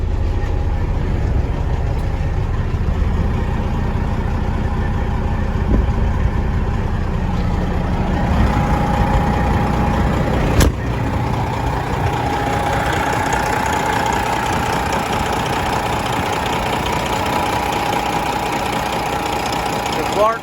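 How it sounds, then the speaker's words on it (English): A Kenworth W900L glider daycab with a Detroit engine idles steadily, a continuous low diesel rumble with an even knock, close and loud, while a voice talks over it throughout. "Detroit built this engine"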